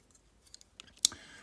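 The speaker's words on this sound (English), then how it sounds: "Okay, a nice little click there." A single sharp lever click inside an Ingersoll 10 lever mortise lock being picked, faint and close, preceded by a few soft metallic ticks and followed by a short rattle.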